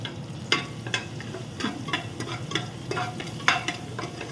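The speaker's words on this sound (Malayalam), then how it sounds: "ജിഞ്ചർ ഗാർലിക് പേസ്റ്റ് എടുത്തു പിന്നെ രണ്ട് പച്ചമുളക് എടുത്തു എല്ലാം ഒന്ന് വഴറ്റാമേ" Ginger garlic paste and green chilies sautéed in a pan give a soft sizzle broken by rhythmic spatula scrapes and taps, about one every half second, close up with no speech.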